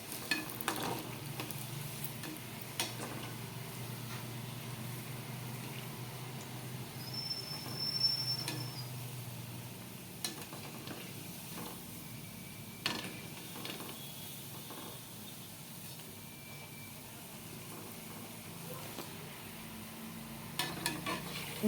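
Urad dal vada deep-frying in hot oil, a steady soft bubbling sizzle with occasional clicks and scrapes of a ladle, moderately quiet and free of voices.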